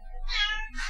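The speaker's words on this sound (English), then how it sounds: "You can probably hear the cat in the background." A cat meows once nearby, a short high mewing call under quiet room background, with a second brief call starting at the end.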